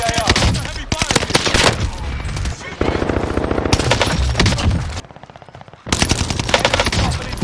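Heavy automatic gunfire in Call of Duty: Warzone from a no-recoil STG rifle, loud sustained bursts of rapid shots broken by brief pauses and one quieter stretch, close and dense with game effects underneath.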